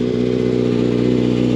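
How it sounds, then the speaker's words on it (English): A car engine runs loud and close with a rough, throbbing idle that pulses steadily, a rumbling motor sound with no voices over it. "I'm gonna need to do like a burnout or something"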